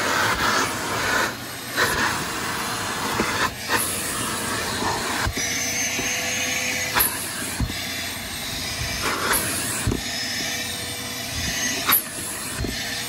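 A Hart 16-gallon wet/dry shop vac runs with a loud, rushing whoosh of air as it sucks up debris, the pitch and force shifting every second or two as the nozzle moves; no talking.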